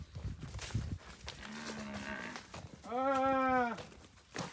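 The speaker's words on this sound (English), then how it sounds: "So where are we moving these cows?" Cattle being moved between farm fields low out with two long moos, the second louder and fuller, amid faint rustling and outdoor background noise.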